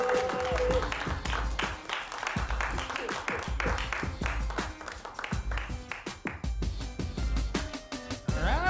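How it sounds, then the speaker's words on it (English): Comedy club audience applauding a comedian at a Chicago stand-up show, dense clapping mixed with sharp louder claps and music, sustained and fairly close throughout. "A big round of applause for Mike Wiley."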